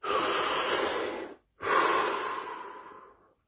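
A deep breath drawn in and let out in two long, close airy waves separated by a short pause, with no speech.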